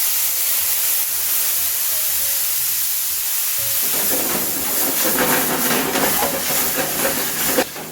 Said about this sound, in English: We're deglazing the pan.